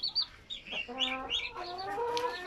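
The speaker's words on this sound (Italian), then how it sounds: "Buongiorno, galletto." A Padovana rooster clucks and calls close by, short nasal bursts rising and falling over a couple of seconds against quiet farmyard background.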